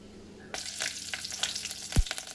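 Garlic frying in a pan at home, a steady sizzle that starts abruptly and carries on with scattered crackles and stirring clicks, plus one low thump near the end; no one talks.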